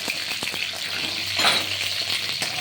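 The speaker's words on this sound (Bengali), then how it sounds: "এবার আমি সমস্ত পটল আস্তে আস্তে ভাজতে থাকবো" Pointed gourd pieces fry slowly in hot oil for a poppy-seed dish, giving a steady, close, moderately loud sizzling hiss with a few small pops and crackles throughout.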